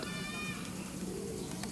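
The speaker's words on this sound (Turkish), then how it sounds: "Bu şekilde kuşlar var burada da" Birds calling in a nature park, with a bright warbling call early on over steady outdoor background noise.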